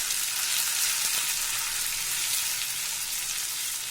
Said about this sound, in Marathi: यामध्ये मी हे गरम तेल घालते, जिरं, मोहरी आणि हे दोन हिरव्या मिरच्या